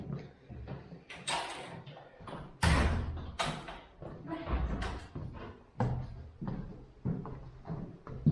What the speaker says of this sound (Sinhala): දොර වහගෙන.